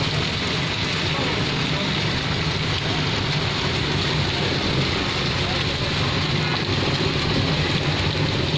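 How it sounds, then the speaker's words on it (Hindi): Heavy rain falls in Mianwali, Pakistan, a dense, constant roar with no breaks across the whole stretch, loud and close. "बारिश हो रही है ये मियांवाली में"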